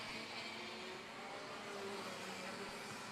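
Racing karts at a Singapore Karting Championship round. Engines drone steadily in a dense, high whine with some mid-distance buzz, continuous across the moment, and there is no clear speech.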